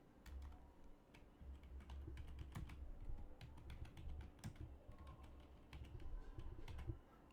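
Faint keystrokes on a computer keyboard while entering an employee data sheet in Microsoft Excel, a steady run of quick soft clicks heard alone for several seconds against a low background hum.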